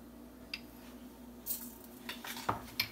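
Fennel seeds tipped into a pot of spices, cloves and cinnamon, for goat curry in an Instant Pot, giving a few light clinks and soft rattles of utensils against the pot, quiet and spaced out, with no talking.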